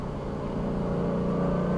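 Car engine droning steadily from inside the cabin on an open race track, a low sustained hum that slowly builds in level as the car picks up speed, no talk.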